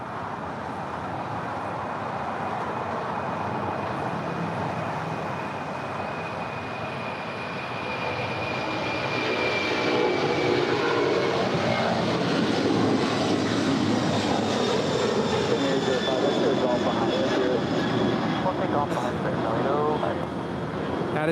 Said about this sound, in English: That is Aero Union 500 departing to JFK. It's a 767-200 ER freighter, 35 years in age.